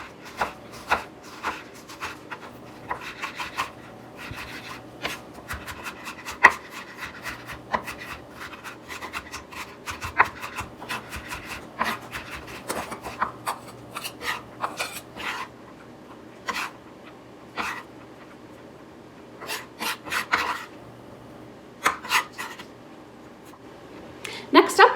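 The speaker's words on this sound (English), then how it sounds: "with the tip of my blade down, I'm gonna just go ahead and start getting that chopped up" A knife chops an onion on a cutting board for chili, the tip held down, making irregular light taps and scraping knocks, some in quick runs, while a person talks over the cutting.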